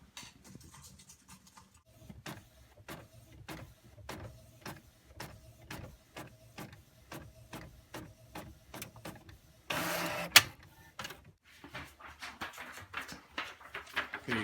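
A 3D printer printing a replacement heart, given as a steady run of close, evenly spaced mechanical ticks and pulses, broken by a short loud burst before a softer, noisier stretch.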